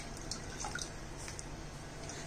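Milk being poured into a pan on a lit stove for tender coconut payasam, a steady faint liquid trickle with small drips and splashes over a low background hum.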